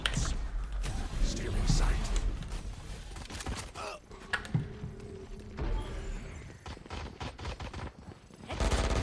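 Gunfire in a Valorant team deathmatch: scattered shots and short bursts over a busy bed of game noise, with a sharper cluster of cracks near the end and a voice talking faintly underneath.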